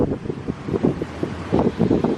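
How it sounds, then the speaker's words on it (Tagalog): Wind buffets a microphone in low, rumbling gusts that pulse unevenly throughout, loud and close. "Mahangin."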